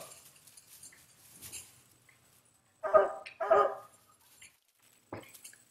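Young puppies out in the woods on a walk, giving a couple of short, fairly close barks and yips, with quieter rustling and faint whimpers around them and long quiet gaps between.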